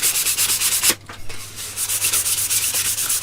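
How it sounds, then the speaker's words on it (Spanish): Steady rhythmic rubbing of the finest sandpaper on radal wood during a luthier's final finishing, quick back-and-forth strokes with a brief pause partway through. "Después darle la última lija, la más finita."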